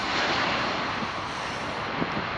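A Bombardier plane passes overhead near Montreal, Canada, filling the air with a loud, broad jet roar that holds steady, with no speech over it.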